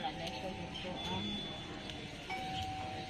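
A doorbell chimes a few clear tones amid a busy background of people talking and ambient noise.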